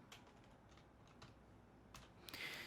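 Close, quick keystrokes clatter on a computer keyboard in short bursts, with a brief louder cluster of clicks at the end.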